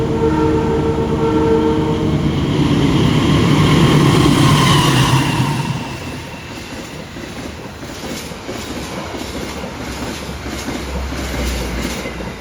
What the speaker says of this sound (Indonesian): Rupanya kita berkesempatan melihat kereta melebar melintas langsung Kota Winangun